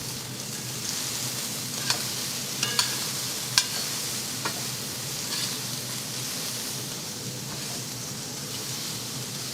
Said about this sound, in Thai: เสร็จแล้วเอาเห็ดลงไปผัดค่ะ